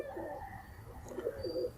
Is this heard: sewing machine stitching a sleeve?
no